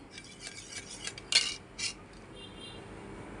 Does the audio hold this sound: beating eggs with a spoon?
yes